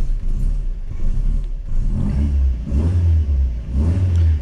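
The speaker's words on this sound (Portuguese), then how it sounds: "Esse escape esportivo na medida certa, né, tem um som muito gostoso de ouvir" A 1979 VW Passat TS with a carbureted engine and sport exhaust revs in repeated swells, a deep throaty rumble rising and falling about three times, close and loud with no voices.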